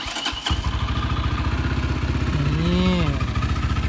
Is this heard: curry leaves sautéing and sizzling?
no